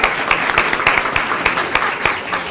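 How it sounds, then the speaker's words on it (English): An audience at an international symposium on Sufi studies applauds a panel, a loud, steady round of clapping from many hands with a few sharper individual claps standing out. "let's give a round of applause for the panel"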